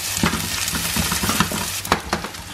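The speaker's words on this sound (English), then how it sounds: "just adding the onion to the frying pan" Onion sizzles and fries in a frying pan while being stirred, a steady close crackle with soft scraping strokes and small pops, no voices.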